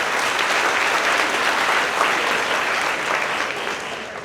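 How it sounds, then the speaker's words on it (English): Applause for an employee at a monthly company celebration, a full, continuous round of clapping from a group that stays loud throughout and tapers slightly at the end. "so give him some applause, with 9 years."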